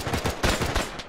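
Automatic machine-gun fire in the World War II shooter Brothers in Arms, rapid bursts of shots with brief gaps, loud and close.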